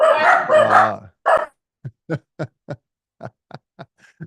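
A person speaks briefly, then dogs bark in a series of about eight short separate woofs, fairly close and clear, with gaps between each bark.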